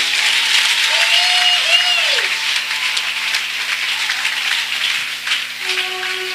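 Church congregation at a French-language Holy Spirit meeting applauding together, a dense sustained wash of clapping, with a sung or spoken voice gliding faintly over it before the applause thins toward the end.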